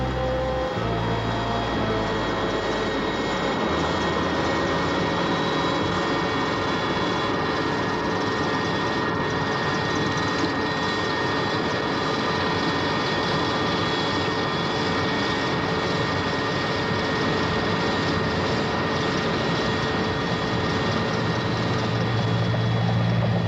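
Military transport aircraft engines during the South African Border War, a loud continuous drone and roar with steady tonal hums, holding unbroken for the whole stretch after a few low rumbling shifts at the start.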